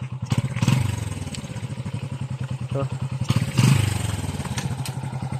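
A motorcycle being pushed up a rough road: a fast, steady engine putter runs throughout, with clattering and scraping over the uneven ground. Someone speaks briefly.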